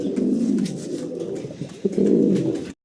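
Pigeons coo in soft, rounded, repeated phrases, fairly close and continuous, with a brief pause in the middle before the cooing resumes and then cuts off abruptly.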